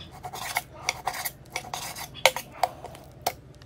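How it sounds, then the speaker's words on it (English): A knife cuts carne asada beef against the grain into thin slices, making repeated soft clicks and taps on a board in an irregular rhythm, close and fairly quiet, with no talking. "I'm slicing, making really thin slices."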